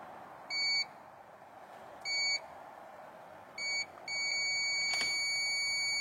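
Short electronic beeps sound in separate bursts, then one long continuous tone, over a low steady hum, while checking the washer system on a Volvo V70 (2000–2008).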